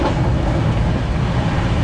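The Darjeeling Mail 12343, running from Sealdah, makes a continuous loud rolling rumble, heard from on board as a dense, even roar of wheels on track.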